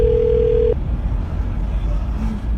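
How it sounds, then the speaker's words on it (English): A single steady telephone tone sounds for under a second, loud and close, then cuts off, leaving low background hum and faint room noise while a call is placed. "I'm going to dial his phone number right now and see if he picks up"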